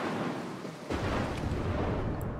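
Thunder rolls through a lightning storm in the Mark of the Ninja stealth game, a sudden deep boom that swells into a sustained rumbling roar, loud and alone with no talk.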